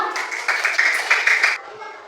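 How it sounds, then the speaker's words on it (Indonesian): A small class claps for their male teacher during a peer-teaching lesson, a short burst of close, brisk hand claps with a quick rhythm that stops abruptly, leaving a quiet room. "Beri tepuk tangan untuk Bapak"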